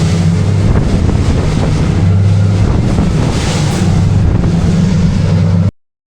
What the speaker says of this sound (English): I'm gonna hold the camera up and let it get splashed for a second.